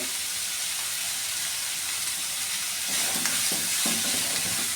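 Onions and shallots sauté in a pan with salt and turmeric for an egg roast, a constant hissy sizzle that swells louder partway through with a few stirring scrapes.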